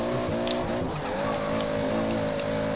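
A Toyota Supra in Forza Horizon 4 accelerating hard with its tires spinning and squealing in third gear, a loud sustained engine drone with a steady tire screech, continuous and close, with no talking.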